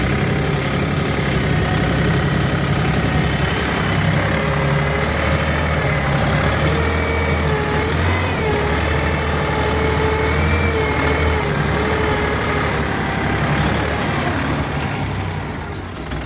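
A DongFeng 244 tractor engine idles continuously at close range in frosty weather, a steady low rumble with a mechanical drone that barely changes throughout.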